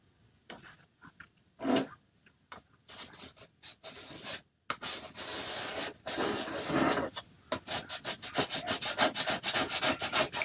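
A paint scraper scrapes across a wet, pasted surface in close, rapid, rasping strokes, sparse at first and then building into dense, repeated scrapes.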